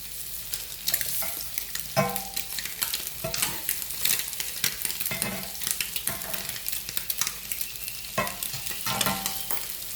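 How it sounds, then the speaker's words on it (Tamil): Eggs fry and are stirred in a pan for egg curry, with crackling sizzle broken by repeated scraping stirs at an irregular rhythm, close and fairly loud. "இந்த முட்டை வந்து நல்லா பொரியணும்"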